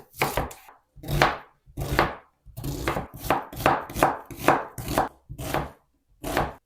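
A knife dices an onion into cubes on a cutting board in steady, close, crisp strokes, about a dozen cuts with brief pauses.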